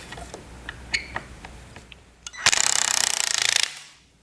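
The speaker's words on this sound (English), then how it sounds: "All that is just an anvil that just hammers the nail down." A Milwaukee M12 or M18 cordless nailer's anvil hammers a nail down in a rapid, loud burst of repeated impacts lasting about a second, following a few scattered clicks and taps.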